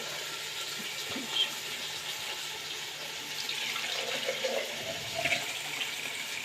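Water poured from a measure into basmati rice for a chicken fry piece biryani; a soft, continuous splashing trickle with a few brief brighter splashes, faint and with no talk.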